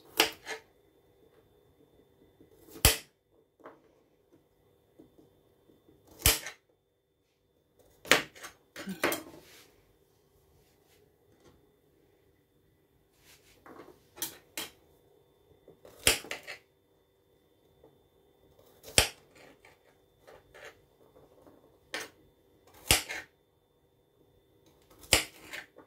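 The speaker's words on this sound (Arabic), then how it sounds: "الفلفله غادي نقطعها هكذا، كل وحده غادي نقطعها على 4 دغيوس" A knife cuts peppers into quarters on a board while making Syrian makdous: sharp, irregular knocks and clicks at uneven intervals, close by, with quiet gaps between the strokes and no talking.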